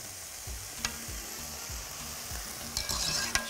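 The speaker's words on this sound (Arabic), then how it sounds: "يعني لسه هقليهم بس تقليبتين كده مع البصل" Chopped liver and gizzards sizzle with onions in a hot pan, with a steady frying hiss under rhythmic spoon scrapes and a few sharp metallic taps.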